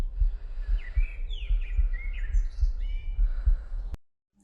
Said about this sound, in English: The bird audio is a little too loud.